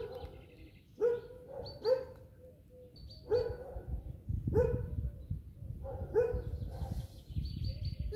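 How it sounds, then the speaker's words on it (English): A dog barks repeatedly somewhere in a neighborhood during a walk, five or six sharp, moderately distant barks spaced about a second apart over a low outdoor background, with no one talking. "She's thinking from where the dog is barking."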